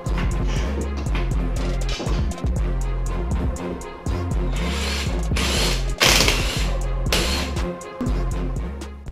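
A car jack ratchets repeatedly in a steady clicking rhythm as a car is lifted, followed by mechanical clanks and tool noises while the wheel is taken off, loud and close.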